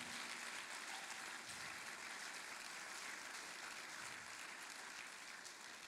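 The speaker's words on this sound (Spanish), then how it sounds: "Dele un aplauso al Señor" A church congregation claps steadily in praise during a sermon, a dense, even wash of many hands that holds at a constant level from start to finish with no voices over it.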